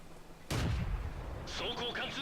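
A tank cannon shot from a Japanese Chi-Nu in a tank video game: one sharp, loud broadband blast with a rumbling low tail, followed by fainter clanking and metallic ringing of the round and reload.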